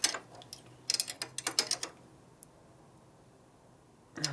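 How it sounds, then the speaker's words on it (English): A wrench works a stainless steel nut on a 1965 Harley-Davidson panhead 74ci FLH motor, giving a quick run of sharp ratcheting clicks up close, then a quiet pause and one last click. "Use a longer wrench for more leverage."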